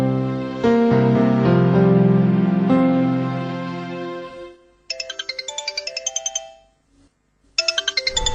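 A mobile phone ringtone plays loudly and alone: a sustained melodic tune, then two bursts of rapid, repeating electronic ring tones with a short silent gap between them.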